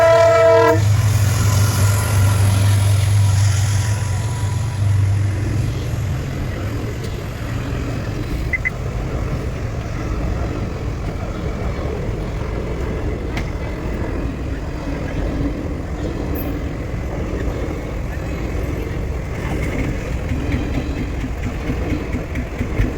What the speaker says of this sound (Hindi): देख लियो ट्रेन भी आ गई है।